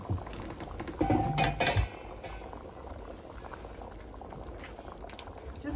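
Red kidney beans for Punjabi-style rajma simmer and bubble in a pot outdoors, a steady close wash of boiling liquid with a few clinks of a utensil against the pot early on.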